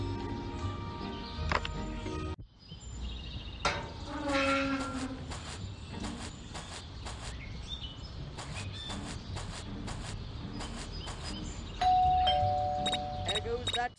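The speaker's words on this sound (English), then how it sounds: "There goes that stupid bell again!" Doorbell chiming in the video game Scary Teacher 3D, ringing repeatedly over game sound effects and background music, with a voice speaking in between.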